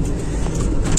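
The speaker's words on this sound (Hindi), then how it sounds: "मतलब सिर्फ जो आवाज है वो सिर्फ गाड़ी की आवाज है।" Steady low car engine hum and road rumble heard from inside a moving car, continuous and fairly loud with no other sounds.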